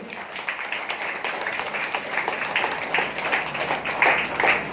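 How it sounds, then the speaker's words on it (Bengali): An audience at a Christian church service applauds, a dense steady wash of clapping that swells slightly toward the end, with no speech over it. "জোরসে সেই বাবার জন্য একটা করতালি দিন"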